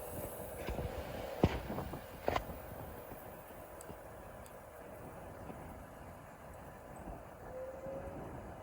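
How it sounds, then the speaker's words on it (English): A Class 390 electric train pulls out of Wigan North Western on a stopping service to London Euston. A faint, steady rumble is heard, with a couple of sharp clanks early on and a soft rising whine near the end. "It's about to depart for London Euston on the stopping service."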